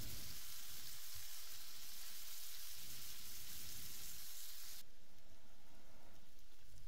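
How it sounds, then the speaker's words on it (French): Onions sizzle steadily in a hot pan while being stirred and simmered for a mushroom and Swiss cheese burger topping, a continuous close frying hiss with no voices. "Ensuite, on rajoute les oignons. On mélange et on laisse mijoter"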